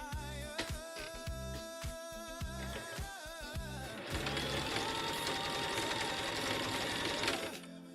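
Sewing machine stitching thin fabric rectangles, starting as short rhythmic bursts of mechanical whirring and then running steadily for several seconds, loud and close with no talking.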